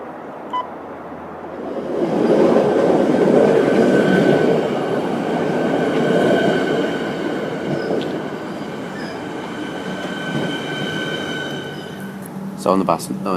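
Rail carriage interior on a train ride, a steady rumbling roll of wheels on track with a rising, loud middle stretch, faint high tones and clicks toward the end.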